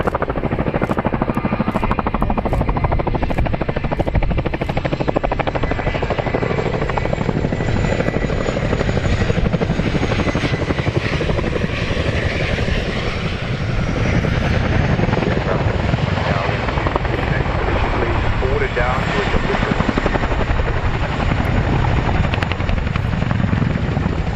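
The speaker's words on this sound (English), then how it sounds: "with a brand new addition to the Chinook roll demo" A Chinook twin-rotor helicopter roars continuously nearby during an airshow display, heavy rotor thrum and engine whine rising and falling as it maneuvers.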